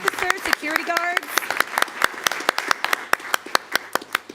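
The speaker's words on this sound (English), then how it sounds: "can I have a round of applause for anybody who is an officer, national security officer, security guards" Scattered clapping at a school board meeting, sharp separate claps from a sparse audience, with a person speaking over the start.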